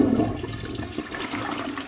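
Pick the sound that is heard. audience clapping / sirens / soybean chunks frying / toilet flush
toilet flush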